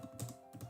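Soft keyboard typing in a quiet room, with two short bursts of several clicky keystrokes separated by a brief pause, close and fairly faint.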